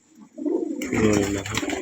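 Nafta pigeons coo close by in a steady low warbling murmur, loud and clear, with a soft rustle or flutter first and then a denser burst of overlapping calls.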